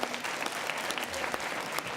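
An audience claps loudly after a card trick at a TEDx event in a memorial library, dense sustained applause filling the whole stretch with a faint murmur beneath.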